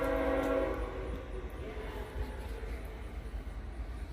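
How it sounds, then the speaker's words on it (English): A train rumbles past a railroad roundhouse in Martinsburg, a steady low roar with a brief horn-like tone at the start that fades into continuous rolling noise. "Here's the train coming too."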